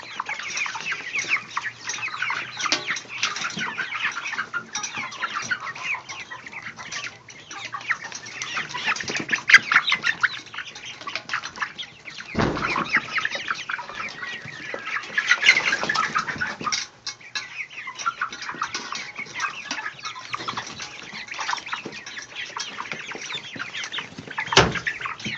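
Chickens clucking in a coop with broody hens and quail, a busy, continuous chatter of clucks and squawks from several birds that goes on for about 25 seconds, with brief wing flaps and thumps now and then.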